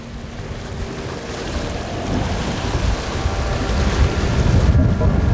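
Strong wind buffets the microphone on coastal sea rocks during sea bream fishing, a loud, continuous roar mixed with rushing waves and fast water, building slightly toward the end.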